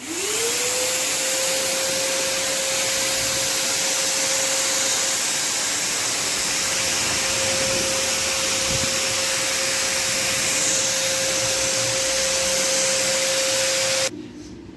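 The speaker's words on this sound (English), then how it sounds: "Let me switch on and see how well the blower works." A Eureka Forbes Easy Clean Plus vacuum cleaner running as a blower gives a loud, steady rushing roar with a constant high whine, unbroken for about fourteen seconds before it drops off near the end.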